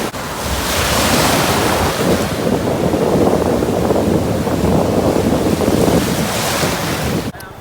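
Ocean surf rolling in on the beach at Puri with a loud, continuous roar, heavy wind buffeting the microphone throughout, ending in a brief cut near the end.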